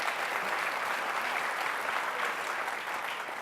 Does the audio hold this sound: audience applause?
yes